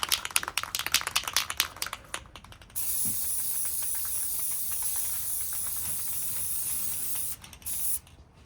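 Aerosol can spraying a light coat of primer onto the brake calipers of a V6 Camaro: a few short hissing bursts, then one long steady spray, a brief pause and a final short burst, close by.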